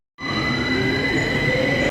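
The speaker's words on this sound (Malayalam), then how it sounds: "ഇത് ലണ്ടൻ ഹ്യൂസ്റ്റൺ റെയിൽവേ സ്റ്റേഷനാണ്" Steady rail ambience inside London Euston railway station, a continuous hum of trains and rolling stock with faint squealing wheels, starting abruptly and holding level without voices.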